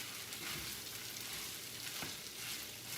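Potatoes fry with bacon and onion in a pan over heat just below medium, giving a soft, steady sizzle with a brief scrape of stirring partway through.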